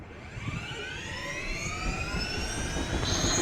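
Rising whine of a helicopter spooling up for takeoff in a video game, a steady engine roar with climbing tonal harmonics, loud and close with no voices.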